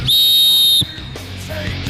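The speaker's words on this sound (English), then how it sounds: "then I'll blow the whistle" A referee's whistle blown once to start a firefighter strength competition event, a loud steady shrill blast lasting under a second, followed by crowd noise.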